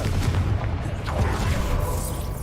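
A Confringo fire spell blasts in Hogwarts Legacy, a booming fiery explosion with rumbling low-end bursts and crackling debris layered over dense game combat noise, loud and continuous.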